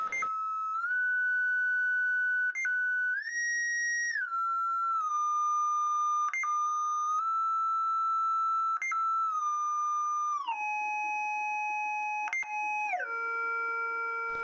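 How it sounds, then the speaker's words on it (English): A steady electronic tone from a cymatics wave generator holds one pitch, then jumps to new pitches in a stepped sequence, with brief clicks marking each change. "The second beep now means the frequency was saved into the sequence."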